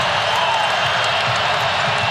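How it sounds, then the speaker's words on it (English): Crowd cheering inside an NC State basketball arena during a regular season game, a loud, steady roar that fills the space without a break. "Now listen to this crowd."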